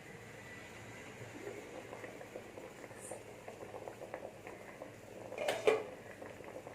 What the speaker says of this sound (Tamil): தண்ணி நல்லா கொதிச்சிருச்சு.